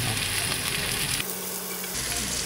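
Prawns sizzle and crackle loudly in hot oil in a pan, a steady frying hiss with a brief dip in the middle as they are turned.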